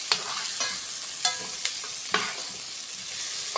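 Salt and black pepper sizzle in hot oil in a pan ahead of chicken wings, with steady frying hiss and several distinct stirring scrapes and clacks at uneven intervals, close up and with no talking.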